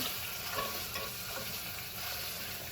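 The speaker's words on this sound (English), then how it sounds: "I'm just waiting for the sausage to get brown" Steady crackling sizzle of sausage frying in a pan, continuous and close, with no talking.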